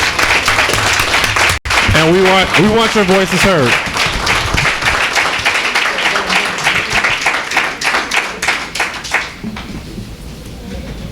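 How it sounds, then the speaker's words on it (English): Clapping and cheering from a crowd at a village special board meeting, loud and continuous, with a voice speaking over it at first; the applause slowly thins into scattered claps and then fades away. "Please stand up, give these people a round of applause"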